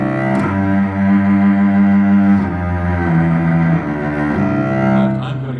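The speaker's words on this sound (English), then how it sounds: "I want to hear the cello itself ring more" A solo cello sings out with a full, ringing tone, sustaining rich, resonant notes that shift pitch every second or so during a masterclass performance, played close and fairly loud.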